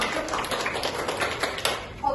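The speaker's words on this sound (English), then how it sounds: "Applause to Tasha." A brief burst of group clapping, fairly close, with a voice talking over it.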